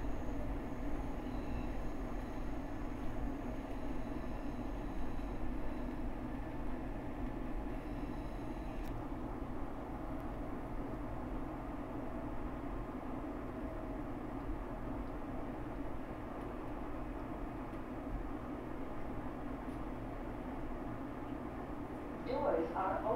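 A SEPTA Market-Frankford Line subway train sits at a station, giving a continuous low rumble and hum throughout. A muffled voice talks faintly beneath the noise.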